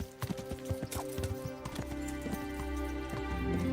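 Horse hooves clip-clop in a medieval role-playing video game while riding, with rapid uneven thuds at first settling into a steady gait, fairly close and moderately loud, with a faint whinny and no talk.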